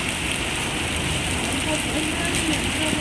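Steady heavy rain pouring down in Rajkot, a dense continuous hiss with no pauses, close and loud throughout.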